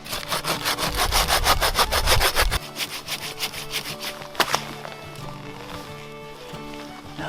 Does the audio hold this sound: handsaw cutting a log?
yes